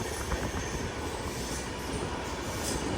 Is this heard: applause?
no